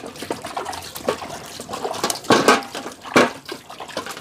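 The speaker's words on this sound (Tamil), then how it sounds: "இப்போ நம்ம சாமான் கழுவி முடிச்சாச்சு" Dishes, pots and utensils washed under running water: splashing and a steady flow sound close by, broken by louder sloshes and the clatter of handled cookware.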